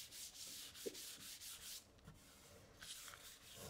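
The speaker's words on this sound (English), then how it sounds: "we are going to give it a light sand over those letterings" Sandpaper rubs lightly over painted lettering in quiet, soft back-and-forth strokes, several short scratchy passes with brief pauses between them.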